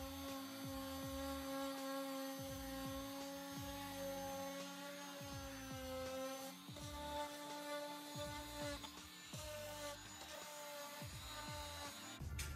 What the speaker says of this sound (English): I then got my Surfprep sander with the foam pad attached and sanded the detail parts that my orbital sander couldn't reach.